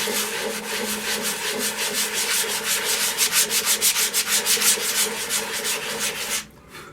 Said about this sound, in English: I'm at 80 grit here. So I'm just going to hand sand all this down.